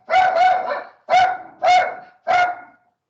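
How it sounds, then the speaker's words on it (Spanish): A small dog barks four times close by, a quick double bark followed by three single ones, each spaced about half a second apart with no talking. "Ya escucharon a mi perrito."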